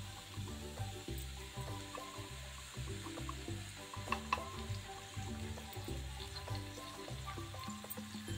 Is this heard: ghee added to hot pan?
yes